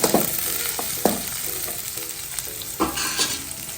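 Onions fry in a pan while being prepared for cauliflower 65, giving a close, steady sizzle broken by sharp scraping stirs, with no voices.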